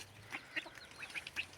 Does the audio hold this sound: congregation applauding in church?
no